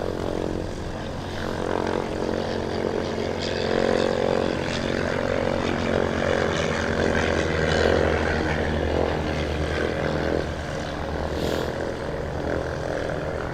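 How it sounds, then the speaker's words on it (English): Nimrod XV232 aircraft at Coventry Airport running its engines at full power, a loud, steady, close roar with a dense broadband rumble that holds throughout with slight swells. "this aircraft is very, very loud"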